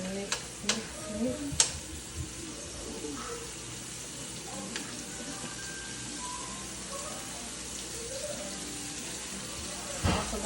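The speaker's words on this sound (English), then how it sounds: "my sausage in the pan and cooking them right now. Give it a little mix." Sausages sizzling steadily in a pan, with a few sharp scraping clinks of a utensil stirring them near the start and again at the end.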